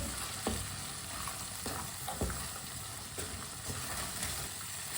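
Fresh peas frying with salt in a pan, a close, steady sizzle broken by several sharp scrapes and knocks as a spoon stirs them around.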